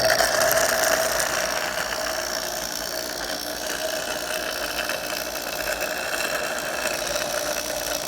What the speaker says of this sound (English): This has got to be a miniature scroll compressor.